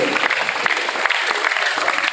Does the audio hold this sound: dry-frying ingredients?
no